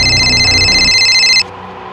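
A phone's electronic ring sounds loud and close, with a sustained high tone that cuts off abruptly after about a second and a half, leaving low background noise.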